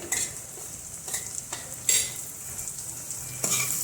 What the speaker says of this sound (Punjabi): ਮਿਕਸ ਕਰ ਲਵਾਂਗੇ ਆਪਾਂ ਪਿਆਜ਼ਾਂ ਨੂੰ